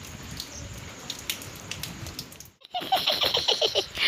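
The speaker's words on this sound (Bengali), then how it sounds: "বৃষ্টির মধ্যে ভিজছো কেন" Rain falls steadily outdoors as a fine patter of drops, then a brief gap gives way to louder, closer splashing and dripping near the microphone.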